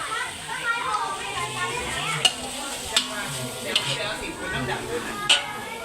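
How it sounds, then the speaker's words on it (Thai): Sweet and sour stir-fry tossed in a pan, a steady sizzle and scrape of stirring with a few sharp clinks of the utensil, while a voice talks over the cooking. "กำลังผัดเปรี้ยวหวาน"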